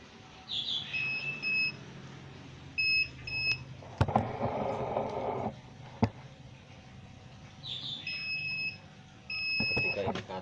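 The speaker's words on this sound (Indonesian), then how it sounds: "ketika indikator kan berbunyi, di sini menunjukkan ada yang sudah berfungsi ya" A bottom-loading gallon water dispenser's heating indicator beeps in short high paired tones, repeating in two clusters, while someone talks nearby and clicks and a brief rushing noise from the unit occur between beeps.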